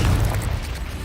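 A Confringo blasting curse goes off in the Hogwarts Legacy video game, a deep, loud boom rumbling low for about a second with no pause.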